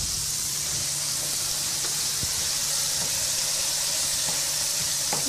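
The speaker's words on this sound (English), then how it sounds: "Let that start to melt down in there." Roux melts down in a pot for duck andouille gumbo, giving a steady, loud sizzle and hiss with faint stirring ticks and no speech over it.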